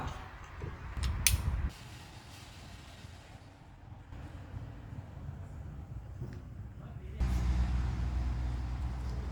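A kick-start spring being fitted on a Honda Nova motorcycle engine, heard as close metallic creaking and clicking of mechanism parts over a steady low rumble that grows louder toward the end.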